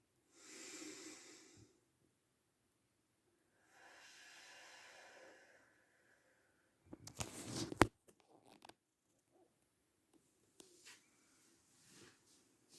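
Big deep breaths during a yoga session, with two long soft airy exhales heard close up, then a louder rustling burst and scattered faint noises; no one speaks.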